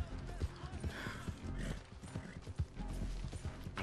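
Horse hooves clip-clopping in Red Dead Redemption 2 as a rider urges a Mustang on, uneven thudding steps with creaks of tack mixed in, fairly quiet and close.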